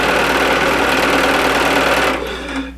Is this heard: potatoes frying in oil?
no